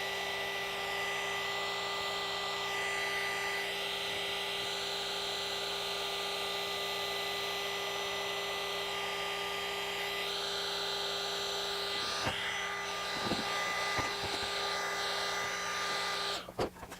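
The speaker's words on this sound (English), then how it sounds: "So what I'm doing is I'm heat shrinking the wires." A heat gun blows steadily as it shrinks tubing over wires for a backlit Storm Trooper wall sign, a continuous loud whooshing hum with a fixed tone throughout, ending in a few clicks and a sudden cutoff.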